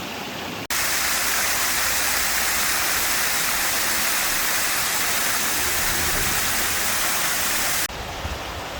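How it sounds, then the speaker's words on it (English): Water cascades down rocks in a mountain stream near Lonesome Lake in the White Mountains National Forest, making a loud, steady, close rush that runs unbroken for most of the stretch before cutting off abruptly. "The water, of course, cascading down the rocks."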